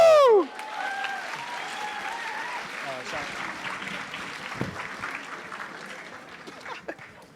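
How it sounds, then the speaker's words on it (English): Audience applause at a university cultural mela performance, a brief loud cheer or whoop at the start, then a steady crowd clapping that gradually fades, with scattered voices and chuckles in the room. "Give a round of applause to yourselves."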